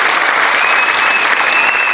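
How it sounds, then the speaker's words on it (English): Studio audience applause on a TV talk show welcoming guitarist Tommy Emmanuel, a loud, dense and steady wash of clapping filling the whole stretch with no pauses. "Give a big applause to Tommy Emmanuel."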